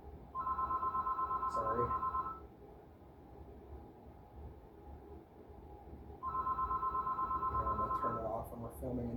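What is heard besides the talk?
telephone ringing in game store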